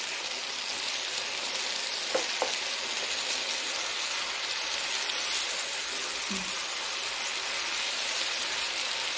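Spinach frying in a pan, a steady soft sizzle running throughout with a couple of brief scrapes of stirring, fairly quiet and even.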